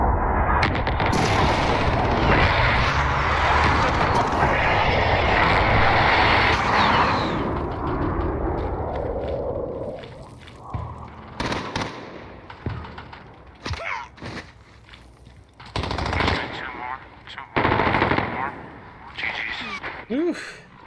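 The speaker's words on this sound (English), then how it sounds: "Enemy precision airstrike inbound." A precision airstrike in a video game hits as a long, loud barrage of blasts and gunfire for several seconds, then thins out into scattered impacts and thuds, with speech partly over it.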